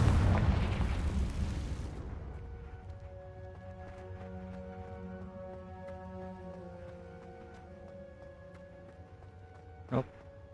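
A Confringo fire spell explosion in the video game Hogwarts Legacy bursts loud and broad at the start, then decays over about two seconds into a lingering tonal hum. A single sharp pop follows near the end.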